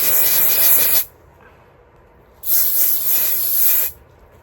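Hair spray hisses from an aerosol can in two bursts, a one-second spray and then a longer sustained one of about one and a half seconds, loud and close.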